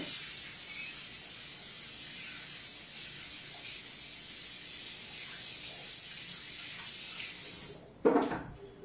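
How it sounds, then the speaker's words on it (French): Water running steadily from a kitchen tap as hands are rinsed, a close even hiss that cuts off near the end with a brief clatter. "Je vais me rincer les mains, là."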